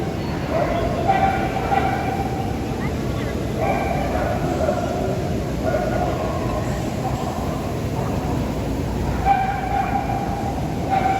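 A Pomeranian barks at a canine club dog show, with short yappy barks recurring in bursts over a steady crowd and hall noise, with people talking in the background.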